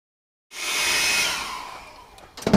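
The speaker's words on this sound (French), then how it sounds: "l'effet du sèche-cheveux, il ressemble un peu à ce qu'on peut obtenir" A hair dryer blasting alcohol ink across Yupo paper switches on abruptly with a loud, steady rushing roar that slowly eases, and a brief clatter comes at the end.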